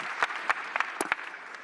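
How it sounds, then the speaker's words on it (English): A few scattered claps from an audience at an energy technology meeting, sparse and uneven under a speaker's amplified voice. "you all have to clap for me to hear the yes"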